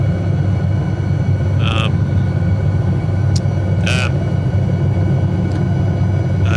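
An SA315B Lama helicopter in Microsoft Flight Simulator gives a constant loud rotor and engine drone throughout, with a few brief higher chirps breaking through on top.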